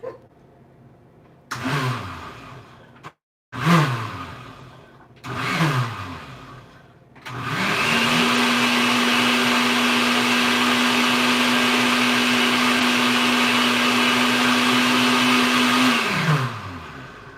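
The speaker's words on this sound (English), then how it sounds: "I don't think you guys need to hear the blender." A kitchen blender whirs in several short pulses, then runs steadily for about eight seconds at a loud, constant pitch before winding down, with no talking.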